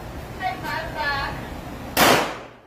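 A single pistol shot strikes a target about 17 meters away at a shooting range, a sharp metallic crack near the end, preceded by brief talk.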